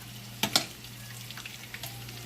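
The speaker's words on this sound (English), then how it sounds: "our wings been cooking on medium-high fire for what, about 30 minutes?" Honey sweet chicken wings fry on medium-high heat with a soft, steady sizzle and a few brief louder crackles, close and quiet with no talk.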